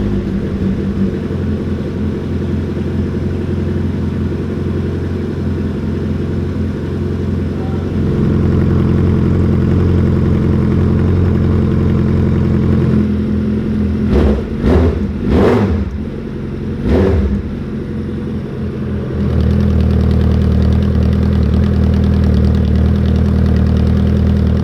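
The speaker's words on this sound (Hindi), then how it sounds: "वुडू का स्केरी लाउड एग्जॉस्ट है।" Suzuki Hayabusa motorcycle with a loud Wudu exhaust, idling with a deep steady rumble, stepping up to a higher idle, then several quick sharp throttle blips midway before settling back into a loud steady run.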